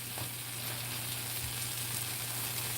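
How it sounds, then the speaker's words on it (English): Food sizzles steadily in a hot pan, a constant crackling hiss with no talking, fairly close. "It's just kind of sizzling on the fresh side there, crisping it off."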